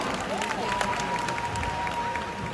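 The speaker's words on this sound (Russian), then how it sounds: "эти аплодисменты для вас" Crowd applause at a media award ceremony forms a steady wash of clapping and crowd noise, with a faint tone and some background voices mixed in.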